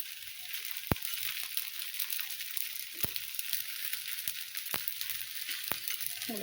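Masala paddu fry in oil with a soft, steady sizzle, broken by a few faint sharp ticks.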